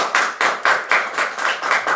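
Several people clapping at a council meeting, a quick patter of hand claps with regular rhythmic surges, fairly close and steady for two seconds with no talk over it.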